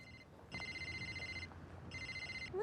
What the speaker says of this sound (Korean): 또다시 걸려오는 그 전화.